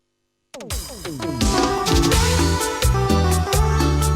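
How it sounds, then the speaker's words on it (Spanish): Upbeat Bolivian romantic cumbia played by a full band, steady bass and percussion rhythm under bright melodic lines, loud and close after a brief silent start. "Ahora se viene la cumbia romántica y suena así."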